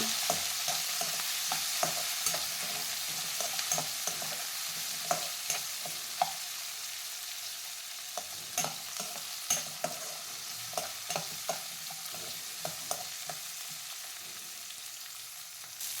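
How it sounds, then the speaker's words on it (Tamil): Shallots, coriander, tamarind and green chilies sauté in a pan for mint chutney, a soft continuous sizzle broken by scattered clicks and scrapes of stirring, quiet and close with no talking. "இப்போ எல்லாம் சேர்த்து நல்லா வதக்கலாம்"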